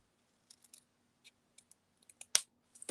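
Scissors snip along the edge of card paper in a handful of small crisp clicks that build to a few louder close cuts at the end, with near silence between them.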